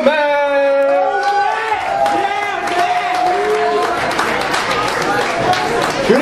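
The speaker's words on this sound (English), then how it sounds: "everybody give me a big round of applause right now and make some noise for Matt!" A concert audience at Blueberry Hill breaks into applause and cheering. The crowd noise swells under a voice at first, then carries on as steady clapping and shouts.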